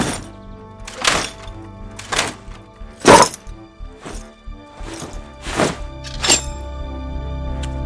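Handcuffs struck as foley to mimic gunshots: a series of sharp, loud metallic thunks spaced about a second apart, each ringing briefly, with no speech.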